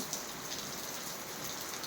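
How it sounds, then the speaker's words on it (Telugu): Steady rain falling outdoors, a soft, even hiss of drops with no breaks, fairly quiet and continuous throughout with no voices. "వర్షం పడుతుంది"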